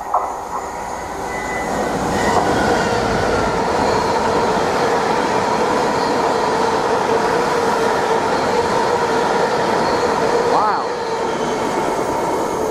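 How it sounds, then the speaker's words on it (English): A freight train hauled by a Class 66 locomotive rumbles steadily through Needham Market Station at close range, a continuous heavy roar with squealing wheel tones and a brief horn-like whine near the end. "This freight train came through by surprise."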